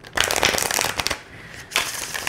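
Close riffling of a tarot card deck being shuffled, two bursts of rapid flicking separated by a brief quieter pause.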